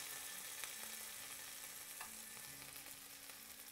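A hot cross bun chocolate toastie cooks with butter in a pan over medium-low heat, giving a quiet, steady sizzle and frying crackle with a few faint clicks and no voices.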